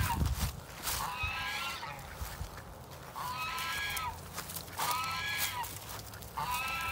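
Ducks honking and quacking in several loud, nasal calls, a short burst early then repeated bursts later, close to the microphone over a quiet outdoor background.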